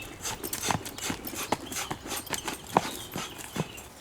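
Horse trotting, hooves striking in a steady two-beat rhythm of clear clip-clop thuds with faint ambient rustle in between, heard alone at moderate distance.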